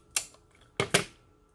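Scissors trimming leftover length of tape-backed material for a faux book craft project, three short crisp snips, one alone and then two in quick succession, close and fairly quiet.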